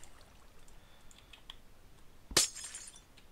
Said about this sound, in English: If you break some glass with an efficiency 5 pick or some other blocks